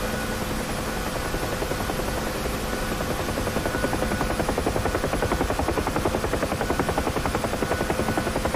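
Helicopter in the DCS World flight game, a steady rotor drone with a fast, even pulsing beat, heard alone and holding constant from start to finish.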